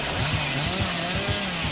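The Hillbilly's chainsaw in Dead by Daylight revs at full throttle, a loud, close, continuous engine snarl with a pulsing, throbbing rhythm and no voices.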